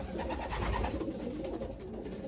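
Domestic pigeons in a breeder's loft, shown as a racing pigeon collection, coo steadily and softly over a constant low background hum, with no talking.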